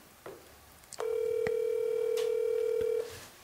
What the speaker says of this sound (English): Get her on the phone.